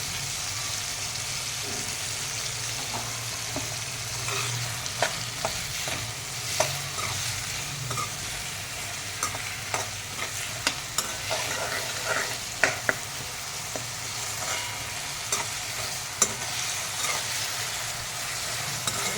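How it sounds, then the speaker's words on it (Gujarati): Vegetables for Kathiyawadi-style pulao sizzle and fry steadily in a pan, with a constant hiss and occasional scraping stirs of a spoon, close and without talk. "થોડીક વાર સાતળવા દઈશું હવે આપણા થોડીક વાર સતળાઈ ગયા છે વેજીટેબલ્સ"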